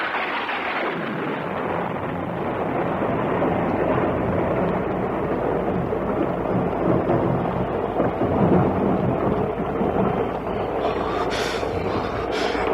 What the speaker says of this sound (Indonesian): Dan sebentar kemudian, hujan pun membasuh permukaan bumi.